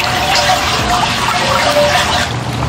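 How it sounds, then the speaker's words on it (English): An outdoor backyard water fountain splashes and trickles in a continuous, close, fairly loud stream of water, with no talking. "Turning your backyard into a personal retreat is as easy as adding the sound of water."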